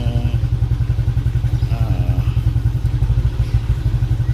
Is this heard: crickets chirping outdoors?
no